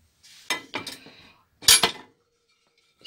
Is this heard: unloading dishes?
yes